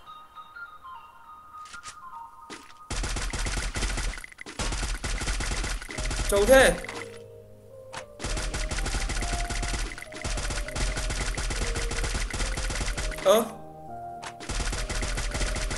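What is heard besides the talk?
MP40 gunfire in Free Fire video game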